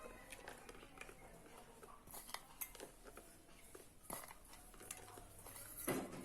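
A utensil stirring a chocolate pudding mixture topped with finely grated block chocolate, giving soft, quiet scrapes and light clinks against the dish at close range.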